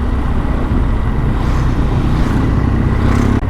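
A motorcycle rides along winding Alpine hairpin roads, its engine a steady droning hum mixed with heavy wind rush, loud and constant without clear shifts over a few seconds.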